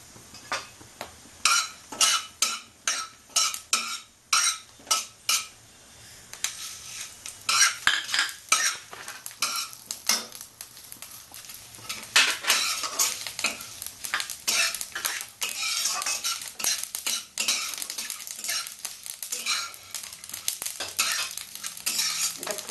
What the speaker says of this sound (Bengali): সামান্য তেল দিয়ে আমি এই শুকনো লঙ্কা জিরা আর সর্ষে ফোড়ন দেব আর একটু কারিয়া পাতা দিয়ে দেবো